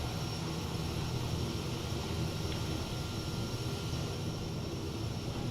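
A simulated Kodiak 100 single-engine turboprop taxiing in Microsoft Flight Simulator 2020, its engine giving a steady, even drone with a constant whine and no clear change in pitch.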